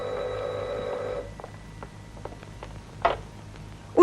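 A telephone rings in a home, heard in a 1971 Turkmen film: a steady electric ring for about a second, then quieter ticks and two short, louder bursts of ringing near the end, with no one speaking.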